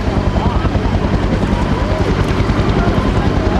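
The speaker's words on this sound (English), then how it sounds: "Look at those counter-rotating rotor systems. Very powerful aircraft." A Kaman K-MAX helicopter with counter-rotating intermeshing rotors at an outdoor rotorcraft show, a loud continuous rotor thump and engine roar with wind buffeting, steady and close throughout.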